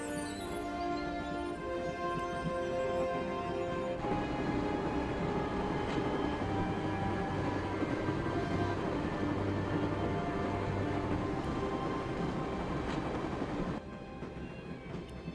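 Train carriage interior from the Broken Sword video game, a continuous low rumbling drone of rolling wheels and car noise, steady and fairly quiet, with a faint musical tone layered at the start.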